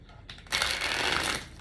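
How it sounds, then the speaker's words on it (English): A deck of tarot cards is riffled once up close, a quick dense flutter that swells after a soft lead-in and fades away within about a second. "One more shuffle."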